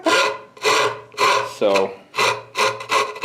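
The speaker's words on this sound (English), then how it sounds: "My jigsaw blade is dull and" A jigsaw with a dull, crooked blade saws through wood in a shop, five or six rasping bursts in a steady rhythm with short pauses, loud and close, with a brief spoken word in one gap.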